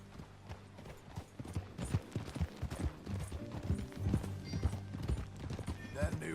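Horse hooves clip-clop steadily in the Red Dead Redemption video game, a rhythmic close trot with an occasional whinny, while characters talk over it.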